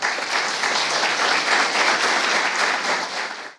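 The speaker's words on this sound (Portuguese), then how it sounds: "recebam ele com uma salva de palmas, por favor" Steady, dense applause from an audience at a public-sector artificial intelligence event, welcoming speakers onto the stage; sustained and even, then fading out abruptly at the end.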